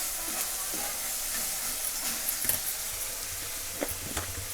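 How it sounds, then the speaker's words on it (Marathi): Ground masala paste and tomato fry in oil for a red pumpkin curry, a soft, even sizzle and hiss with a few faint spatters and stirring taps. "ह्या तेलामध्ये छान असं वाटण आणि टमाटो आपल्याला तळून घ्यायचं आहे"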